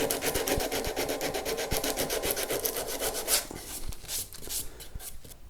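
Hand sanding smooths the curves of a wooden neck on a Blackguard Esquire guitar under restoration, a steady close rhythmic rubbing that turns into slower, softer strokes in the second half.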